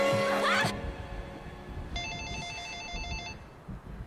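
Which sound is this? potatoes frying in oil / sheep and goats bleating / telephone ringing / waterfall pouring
telephone ringing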